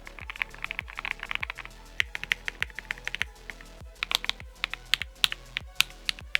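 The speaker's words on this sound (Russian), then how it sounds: "Вот так звучит клава только с тейп-модом." Steady mechanical keyboard typing on a tape-modded keyboard, each keystroke a muted, deep clack, arriving in quick irregular bursts with no voices.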